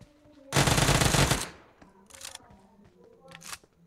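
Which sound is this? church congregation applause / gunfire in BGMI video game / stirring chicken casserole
gunfire in BGMI video game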